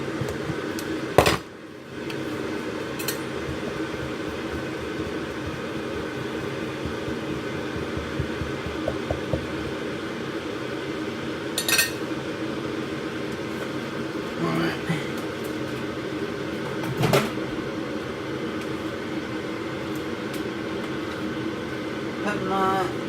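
A microwave oven hums steadily while heating bags of rice, a constant close drone with a few faint clicks and knocks over it and no talking.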